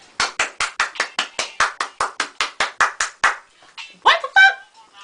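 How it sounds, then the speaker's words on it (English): A single person claps hands about fifteen times in a quick, steady rhythm in a movie theater, close and sharp, then stops as a voice briefly speaks. "Stop clapping. That's so annoying."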